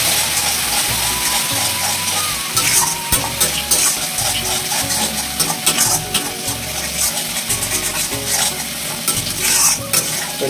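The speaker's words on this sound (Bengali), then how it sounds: "ভালোভাবে কষিয়ে নেবো মশলাটাকে।" Chicken masala frying and being stirred in an iron wok, with a steady loud sizzle and repeated scraping strokes of the spatula throughout, with no talking.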